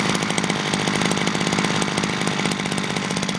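A KSLT33CCG petrol multi-tool engine warms up just after starting, a loud, close, rapid rattling idle that stays steady throughout, with no voices.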